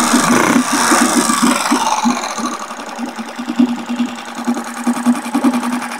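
A Mercury 3.5 hp outboard motor fitted with a larger carburetor and an alloy prop runs at low RPM, a loud, close, rapid putter with a steady rhythmic chug that settles slightly partway through.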